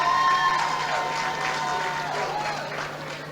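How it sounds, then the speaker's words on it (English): Audience applause at the MSBM 10th anniversary awards gala, a dense crowd of clapping hands that starts loud and slowly fades, with a constant low hum underneath. "Another round of applause to Mr. Everton Anderson, Outstanding Public Sector"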